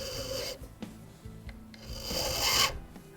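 A steel file rasps across a brass clock pin held in a pin vise for a French Japy Freres Napoleon mantel clock, several short close strokes with brief pauses, the last stroke longer and louder.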